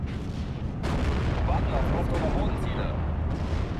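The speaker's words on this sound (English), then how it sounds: "Flak 40 still firing away" Flak 40 anti-aircraft gun firing in Steel Division: Normandy 44 at Sainte-Mère-Église, a steady wash of dense battlefield gunfire and booms, loud and continuous throughout with speech-like clutter over it.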